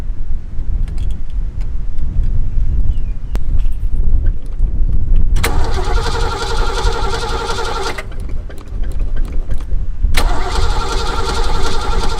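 A vehicle engine cranks over a few seconds on its first startup of the year, then catches and roars to life, dropping briefly before revving again, loud and close.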